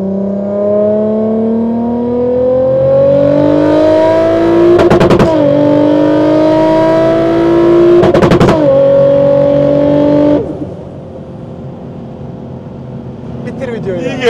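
A 1200 hp Toyota Supra with an automatic gearbox revs hard, its engine pitch climbing in loud sustained pulls broken by sharp crackling shifts, then dropping to a lower idle rumble near the end; people speak over it.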